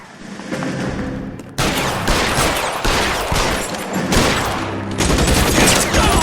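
Gunfire in L.A. Noire: a loud, continuous volley of shots that starts abruptly after a quieter lead-in and carries on dense and close.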